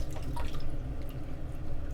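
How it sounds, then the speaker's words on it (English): Water drips and trickles onto a shaving brush during a wet shave, a brief soft splash and dribble over a low background hum. "Maybe I'll add a little bit of water to the brush"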